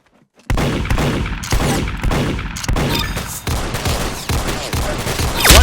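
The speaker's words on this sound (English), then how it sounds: "That's some beautiful shooting right there." Rapid, dense gunfire from a shooting video game played with a pistol on an Xbox controller, loud overlapping shots in a nearly continuous fusillade starting abruptly after a brief silence.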